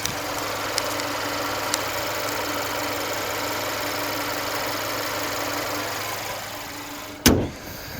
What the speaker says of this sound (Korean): 빠르게 엔진음 들려드릴게요